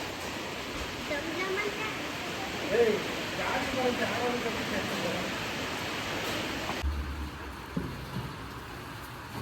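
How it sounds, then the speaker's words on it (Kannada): Strong wind rushes steadily across the microphone in a loud, continuous roar, then abruptly drops to a quieter rumble near the end. "ಸೊ ನೋಡಿ ಗಾಳಿ ಬರ್ತಿದೆ"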